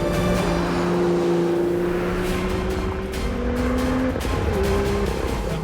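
Porsche 718 Cayman GTS on a track through the last corner, a steady engine drone with shifting pitch and tire noise, loud and continuous, no talk.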